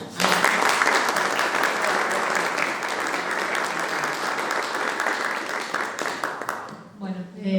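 An audience at an agricultural business talk applauds to welcome a speaker, with dense sustained clapping that fades out after about seven seconds, followed by a voice.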